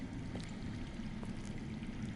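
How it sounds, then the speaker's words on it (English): Underground water flowing in a Game of Thrones video game scene, a steady faint rushing and trickling wash with no speech over it. "I hear water. From underground."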